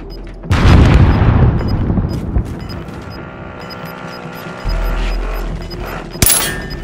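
Frag grenade blast in Warzone on Rebirth Island, a loud low boom at the start rumbling and decaying over several seconds amid scattered distant gunfire, with a second heavy thud near the end.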